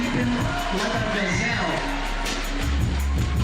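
A packed arena crowd at a 3x3 basketball dunk contest in Abu Dhabi roars and whoops steadily throughout, a dense wall of cheering with an announcer's voice buried in the mix.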